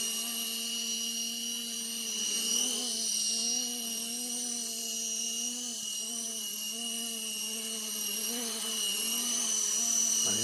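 An RC Era C189 model aircraft's electric motor running continuously with a high, steady whine and buzzing harmonics that waver slightly in pitch, close and constant throughout, with no voices.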